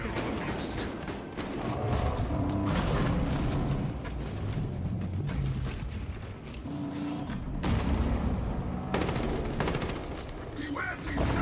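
Gunfire in the game Space Marine 2, a dense rolling stream of rapid shots and blasts running throughout the clip, mixed with game noise and a voice talking over it.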